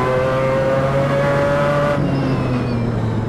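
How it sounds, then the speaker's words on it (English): Mazda 787B race car in Assetto Corsa heard from the cockpit, a loud steady engine drone with whining gearbox noise and a gear shift partway through, slightly muffled and with no talking. "You're getting a lot of gearbox, a lot of gearbox noise."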